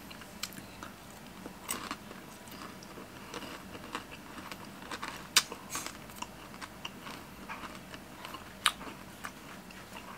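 Crunchy bites and chewing of crispy fried chicken feet, irregular crackles and sharp snaps spread over several seconds, close to the mouth and fairly quiet, with no talking.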